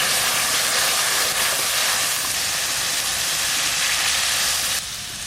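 Water poured into a hot pan of fried Lailontika fish sets off a loud, steady sizzling hiss up close that runs nearly unbroken before dropping slightly at the very end.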